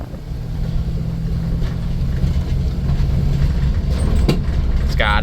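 A 1991 Dodge Grand Caravan with a replacement transmission drives steadily, its low engine and road drone continuous while it is shifted into second gear, with a brief clunk near the end.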